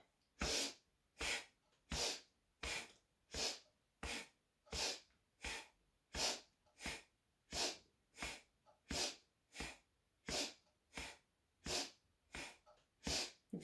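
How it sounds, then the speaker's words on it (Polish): Forceful rhythmic exercise breaths, each paired with a slap on the chest while twisting side to side in a home immunity-boosting workout, about nineteen sharp bursts at a steady, slightly quickening pace, separated by quiet gaps. "Wdech uderzamy w klatkę piersiową, w drugą uderzamy w klatkę piersiową i przyspieszamy."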